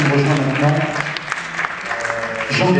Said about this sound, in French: vous l'applaudir très très fort